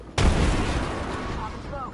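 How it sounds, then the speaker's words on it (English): In the Apex Legends video game, a thrown frag grenade bursts with a sudden loud boom, then a rumbling tail fades while faint game effects chirp behind it. "Casting a frag."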